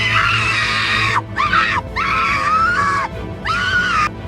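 A young woman named Rachel screams as the floor collapses under her, a loud, piercing, sustained shriek broken into three or four long wavering cries with brief gaps.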